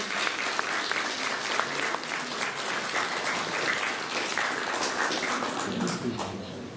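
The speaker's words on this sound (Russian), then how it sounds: "Прошу вас, уважаемые друзья, поприветствовать друг друга аплодисментами." An audience at a concert commemorating unbroken Leningrad claps steadily, a dense wash of applause from a large hall, moderately distant and even, with some voices faintly underneath.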